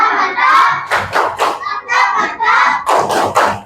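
A sixth-grade primary school class claps out a rhythmic chant, sharp bursts of hand claps in an irregular pattern mixed with the children's voices chanting together in a classroom.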